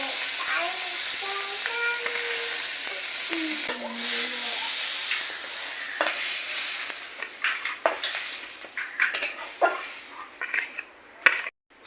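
Crushed ginger being lightly fried in a pan while making a shol (snakehead) fish recipe, giving a steady close sizzle with stirring scrapes and clinks, with some tonal kitchen noise early on.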